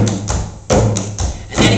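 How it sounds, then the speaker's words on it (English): Clogging shoes strike a hard floor in an African offbeat step, a few sharp, close thumps and taps in an uneven rhythm, loud and alone. "And then he puts an African offbeat step right after it again."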